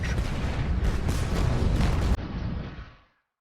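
A WWI artillery barrage on the 1918 Western Front, heard as a dense, continuous roar of heavy booms and blasts for about two seconds that then thins and fades into silence.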